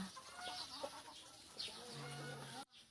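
A hen clucks and murmurs close by over a steady outdoor hiss, with a few short calls and one drawn-out low note before it cuts off.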